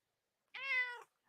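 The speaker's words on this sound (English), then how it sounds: "You hear the cat talking, they're spiritual creatures" A single cat meow, close and clear, about half a second long and drawn out on one voiced note, with silence before and after.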